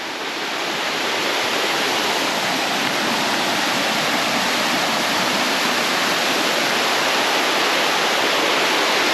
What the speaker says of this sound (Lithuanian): matau ten krioklys